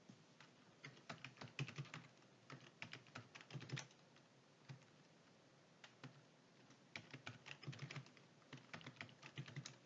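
Quiet typing on a computer keyboard, with bursts of quick key clicks separated by short pauses, including presses of the Tab key, close and alone with no talk.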